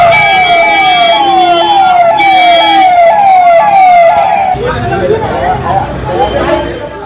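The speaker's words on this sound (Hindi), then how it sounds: "एम्बुलेंस पहुंची है जेल के अंदर।" An ambulance siren arriving at Beur jail in Patna, a loud repeating wail sweeping up and down close by, then cutting off into traffic and crowd noise with people speaking.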